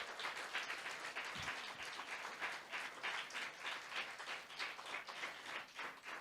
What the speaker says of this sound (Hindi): जोर से तालियां बजाएंगे यीशु के लिए